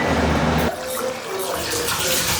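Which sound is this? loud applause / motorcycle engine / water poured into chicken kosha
water poured into chicken kosha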